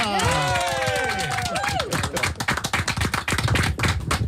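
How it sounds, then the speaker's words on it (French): In a Fun Radio studio, a few people give whooping, sliding vocal cheers, then break into quick, close, crisp clapping that carries on to the end. "Applaudissements les amis pour Max"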